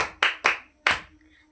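Schoolchildren in a classroom solar-system clapping game clap three times, two quick claps then a slightly delayed third, crisp and close in a quiet room.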